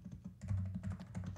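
Typing on a computer keyboard, a quick run of soft close key clicks at low volume with no talking.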